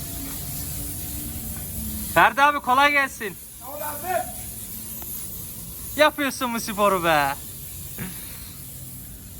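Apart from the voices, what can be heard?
spraying underbody coating on a car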